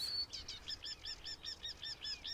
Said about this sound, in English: Marsh warblers nest in May.